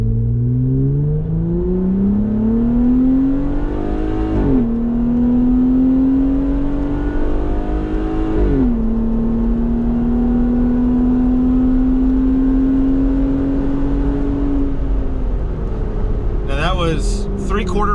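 A 2020 Jeep Wrangler JLUR with a K&N exhaust, heard from inside the cab at about three-quarter throttle: a loud, steady engine drone rises in pitch through two quick gear shifts, then holds before easing off.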